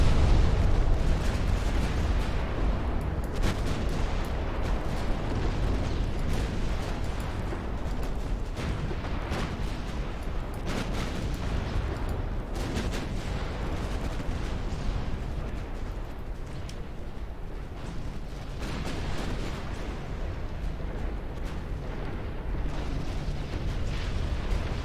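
Battleship under heavy artillery fire, with a dense, continuous barrage of booms and explosions rolling on without pause, loud and chaotic throughout.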